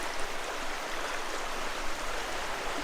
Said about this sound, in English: We have to cross the creek again.